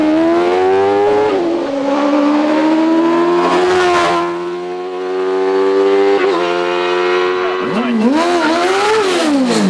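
The Jedi Honda hillclimb race car at Shelsley Walsh accelerating hard, a loud, high, rising engine scream that holds through gear changes before dropping and revving again near the end, with a commentator talking over it.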